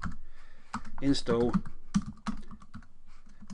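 Keys on a computer keyboard being typed to enter a Linux terminal command, a quick run of soft clicks mixed in under a man's speech.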